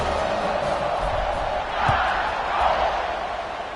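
Football stadium crowd at a college game between DSL and USC, a steady broad roar filling the stands just before kickoff, swelling slightly in two waves.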